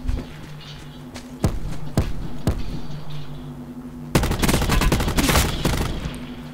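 Gunfire in the Call of Duty Blackout battle royale game: several sharp single shots spaced apart, then a dense loud burst of rapid automatic fire, over a steady low background hum.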